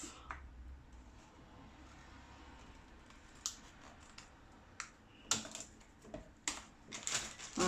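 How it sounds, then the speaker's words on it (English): Quiet scissors snipping, a few sharp clicks and cuts scattered over a soft background, growing more frequent toward the end. "I'm just going to take my scissors"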